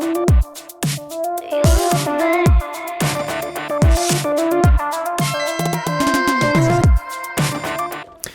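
Filtered synth arpeggio pattern played on a Maschine Plus, bright repeating notes alongside punchy kick drum hits in a steady loud groove.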